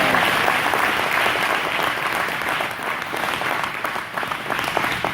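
A men's ministry prayer breakfast crowd applauding loudly, a full, sustained round of clapping with slight swells and dips.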